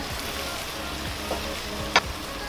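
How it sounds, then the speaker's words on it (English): Food sizzles as it is stir-fried in sugar syrup, a steady soft crackle with a couple of brief sharper clinks from the pan, fairly quiet and without talk. "It's basically stir frying in sugar syrup."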